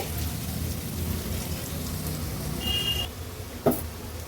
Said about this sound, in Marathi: कांदा व्यवस्थित शिजवून घेते।